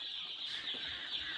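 Chickens on a poultry farm cluck in a steady, low-level flock murmur with a few brief calls rising above the background.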